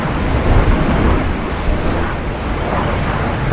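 Steady, loud broadband roar of an airplane heard outdoors at Sydney Airport during afternoon plane spotting, with heavy wind buffeting the microphone throughout.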